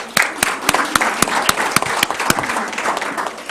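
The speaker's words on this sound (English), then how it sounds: "Let's give a round of applause for our city council members up here" A room applauds city council members at a youth government day council meeting, steady dense clapping with a few sharper individual claps standing out, fairly close and loud throughout.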